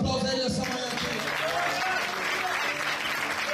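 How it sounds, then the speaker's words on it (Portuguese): A church congregation at a youth conference applauds loudly, a dense, steady wash of clapping filling the room for a few seconds, with the pastor's voice carrying over the start. "Forte aplauso a Ele nessa manhã aqui."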